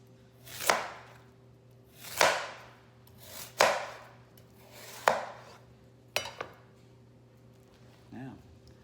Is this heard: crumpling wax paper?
no